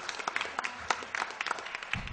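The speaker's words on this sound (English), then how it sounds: "Let's give a round of applause to the two teams here at the end that they've made it down here today." A game-show audience applauds for two competing teams at the end of a match, sparse claps crackling in short bursts at moderate distance, slightly thin and quiet.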